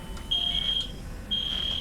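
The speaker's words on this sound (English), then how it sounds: "Is that fire alarm?" Fire alarm beeping during a rhinoplasty consultation: two long, piercing high-pitched tones, each held about half a second, standing out over a quiet room.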